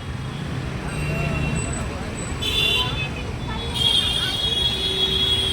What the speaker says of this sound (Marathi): ट्रॅफिक बघा, ट्रॅफिक खूप आले.